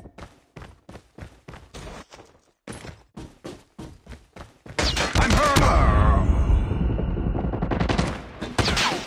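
Call of Duty gunfire: evenly spaced single shots at first, then a loud, dense burst of automatic fire with crashing impacts. Ends in a few more rapid shots.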